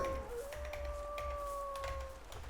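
A Howling Warg in the video game Final Adventure gives a long, sustained howl at moderate distance, its steady wavering tone held over low game ambience, no talking.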